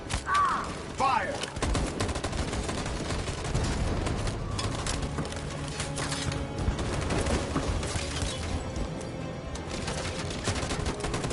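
A sustained volley of gunfire fills a Detroit: Become Human scene, dense rapid shots close and loud, continuing unbroken over a noisy battle backdrop.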